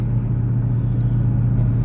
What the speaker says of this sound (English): I love having the windows down here and the pipes roar